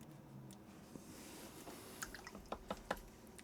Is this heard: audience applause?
no